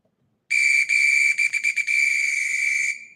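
A football whistle blasts for about two and a half seconds, briefly broken by a few quick stutters mid-blow, then holds steady before trailing off. The shrill tone is loud and close, with no talking.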